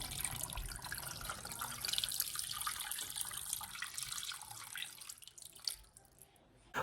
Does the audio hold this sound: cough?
no